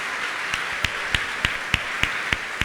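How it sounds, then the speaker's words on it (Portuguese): A church congregation claps together in a steady rhythm, about three claps a second, sharp and even over a constant hiss of room noise, with no voices. "Pode bater palmas, sai."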